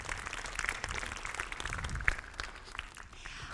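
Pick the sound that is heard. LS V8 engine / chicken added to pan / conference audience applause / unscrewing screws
conference audience applause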